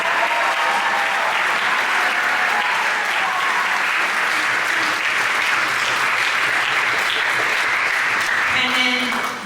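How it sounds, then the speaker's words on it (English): An audience at the MusicMan Camp 2026 concert applauds Rachel Brown, dense, loud clapping that rolls on steadily for several seconds before easing off at the end. "please give Rachel a huge round of applause"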